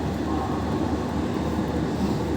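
Subarna Express train rumbling past at close range, a steady loud roar of wheels and carriages that carries through the whole stretch with no voices.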